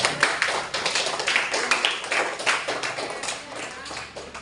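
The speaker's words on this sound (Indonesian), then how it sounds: "tepuk tangan untuk kelompok 4" A classroom of students claps for a presenting group after a science discussion, a short burst of distinct, close hand claps that fades out over a few seconds.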